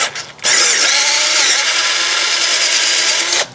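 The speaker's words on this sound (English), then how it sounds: "but I'm going to drill this one out" Power drill boring out a broken thread insert on a 1998 Plymouth Grand Voyager transmission, running loud and close in one steady high whine for about three seconds before stopping abruptly.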